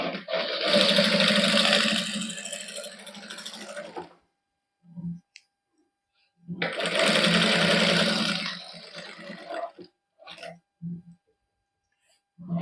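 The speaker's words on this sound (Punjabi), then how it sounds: "ਇੱਕ ਸਿਲਾਈ ਆਪਾਂ ਇੱਥੇ ਇਹਦੇ ਨਾਲ ਨਾਲ ਸ਼ੁਰੂ ਤੋਂ ਲੈ ਕੇ ਐਂਡ ਤੱਕ ਲਾ ਦਾਂਗੇ" A sewing machine runs two long stitching bursts along the neckline of a cotton suit, loud, close, rapid whirring, with short pauses between in which a person talks briefly.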